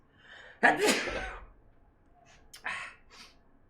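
A single loud, close sneeze bursts out, followed about two seconds later by a softer second sneeze or breathy exhale.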